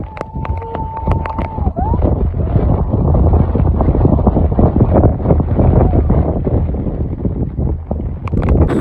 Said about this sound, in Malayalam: നല്ല മഴ എന്ന് പറഞ്ഞു കഴിഞ്ഞാല് നല്ല മഴയും നല്ല കാറ്റും